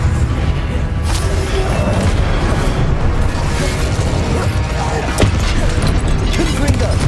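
An Incendio fire spell cast in the video game Hogwarts Legacy: loud, dense booming bursts of flame over a steady wash of game sound, with occasional sharp pops and a voice faintly present.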